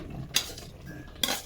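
Macaroni being stirred in a cooking pot of boiling sauce, with two sharp metal scrapes of a utensil against the pot about a second apart over a quiet simmer.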